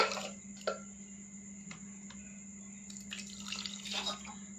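Water used to rinse grated ginger and garlic from a bowl is poured out in a kitchen, a faint splashing and trickling in short bursts over a steady low hum.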